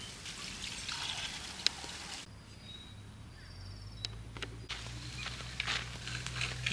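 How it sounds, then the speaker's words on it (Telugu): Prawns are washed outdoors in water with salt, giving soft splashing, trickling and pouring sounds close by. A quieter pause falls in the middle before the splashing resumes. "రొయ్యల్లో బాగా ఉప్పేసి కడిగేద్దాం."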